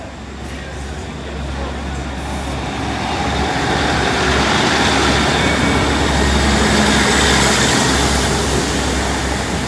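A railtour hauled by Class 60 and Class 66 diesel locomotives rolls over the Lincoln High Street level crossing, a loud, heavy engine roar and wheel rumble that swells as it nears, then holds strong.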